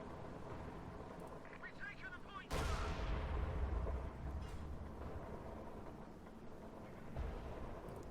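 Howitzer artillery in Company of Heroes 2 fires once with a sudden heavy boom that rolls off into a long rumbling tail, over a dense backdrop of battle noise with a second, weaker thump near the end.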